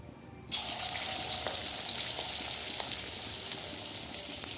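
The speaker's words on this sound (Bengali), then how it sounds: "আবার একবার তেল গরম হয়ে গেছে, একটা করে এখানে ছেড়ে দেবো।" Chicken pakoras dropped into hot oil set off a sudden loud, continuous sizzle. The hiss holds steady and close with faint bubbling underneath and no talk over it.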